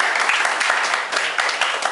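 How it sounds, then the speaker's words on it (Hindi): An audience at a Modicare recognition event in Bhopal claps steadily, a dense, lively wash of applause from many hands that continues for the full two seconds. "जोरदार तालियां एक बार सभी के लिए।"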